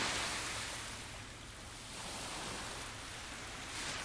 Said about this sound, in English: listen to the waves for a second